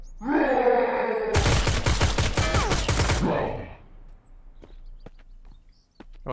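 Rapid automatic gunfire in the Mist Survival video game during a boss fight in a secret tunnel, a dense loud burst lasting a couple of seconds between a groaning creature roar and scattered later shots.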